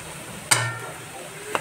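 Moth beans (matki) tipped into a hot pan with a sharp sizzle burst, followed by a short stir and a second brief scrape, close and fairly loud.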